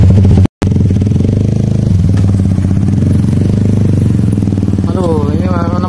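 An old motorcycle engine runs with a loud, steady low rumble and rattling clatter that continues throughout, with a voice briefly heard near the end.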